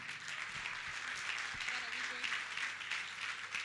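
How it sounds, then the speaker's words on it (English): Faint, continuous audience applause at an iDebate Rwanda tenth anniversary celebration in the Kigali Marriott Hotel ballroom, an even distant wash of clapping with no voices standing out. "A very big round of applause."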